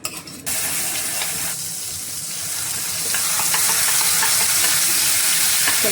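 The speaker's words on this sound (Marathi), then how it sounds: "तेल चांगलं गरम झालं की अर्धा चमचा जिरं घालायचं, 4 पिंच हिंग आणि कढीपत्ता, आपला वाटलेला मसाला" Cumin, asafoetida, curry leaves and ground masala frying in hot oil, a loud dense sizzle that starts suddenly and crackles steadily close by, swelling slightly toward the end, with no talk.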